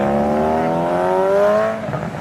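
A supercharged BMW E92 M3 engine howls loudly at high revs, pitch climbing smoothly in one sustained pull before dropping off abruptly near the end.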